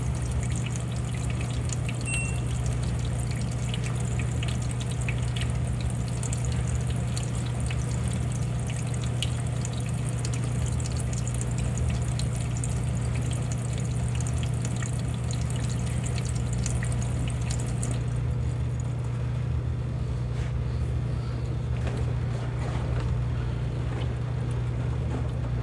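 Water pours and fills inside a washing machine to soak blankets, a steady low hum under a continuous splashing flow that thins out near the end.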